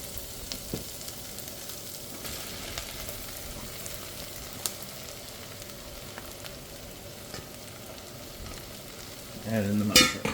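Food sizzling and frying in oil in a pan during a ribeye steak dinner cook, a steady close crackle throughout with a brief burst of stirring or clatter near the end, with no talking.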